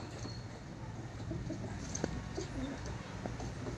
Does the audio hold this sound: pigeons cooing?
yes